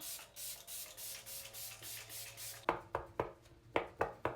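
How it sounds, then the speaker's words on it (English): A steady run of soft, regular spritzes from a fine mist makeup setting spray, about two per second, followed by sharper, quicker pumps with clicks. "I do like to spray my face with the makeup setting spray from Sephora"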